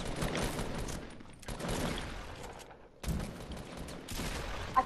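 SMG gunfire in the video game Fortnite, with sustained rapid shooting and game noise that breaks off briefly twice and then picks up again, fairly close and dense throughout.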